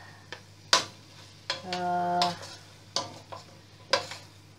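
Chicken being sautéed in a pan for kebuli rice, with soft sizzling under scattered utensil scrapes and clinks against the pan, and a short tonal hum midway.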